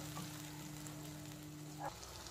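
Masala paste fries on a medium flame, a faint soft sizzle under a steady low hum with one small clink near the end.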